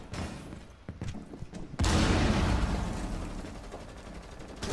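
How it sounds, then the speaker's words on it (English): Gunfire in the tactical shooter Rainbow Six Siege: a few sharp scattered shots, then a loud sustained burst of rapid fire with booming reverberation that carries on to the end. "I shot him like 5 times"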